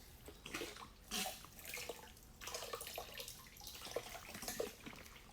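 Water from a tap runs and splashes while something is rinsed at a lab sink during EC and pH testing, a steady close-up gush with uneven surges and drips, no talking.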